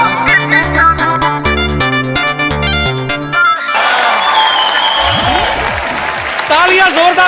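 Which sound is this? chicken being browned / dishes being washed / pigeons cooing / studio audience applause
studio audience applause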